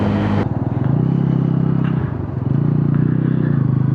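A Bajaj Pulsar N160 motorcycle cruising at 120 km/h, with a loud, steady engine drone and heavy wind rush close to the rider, beginning with a sharp burst of buffeting.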